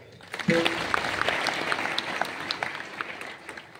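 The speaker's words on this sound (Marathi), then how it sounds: "टाळी वाजवा." An audience at a live Marathi kirtan breaks into a burst of clapping that starts suddenly and carries on as a dense, fairly close patter of many hands for several seconds.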